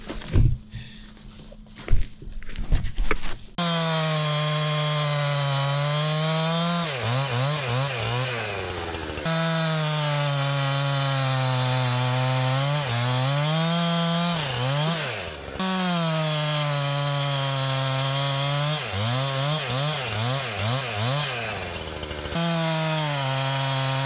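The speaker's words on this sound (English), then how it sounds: "May as well cut some firewood" A chainsaw cutting firewood: a short start with rough pulls and sputters, then a loud, close engine that revs steadily and bogs down as it bites through the wood, alone without talk.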